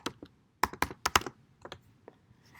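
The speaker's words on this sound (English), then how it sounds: "we're going to type in the word" Crisp clicks of typing on a computer keyboard while entering a word in a graphic design program, a quick burst of about five close keystrokes followed by a few scattered softer taps.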